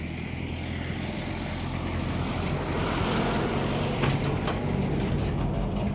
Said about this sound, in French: Désolé, c'est un tracteur.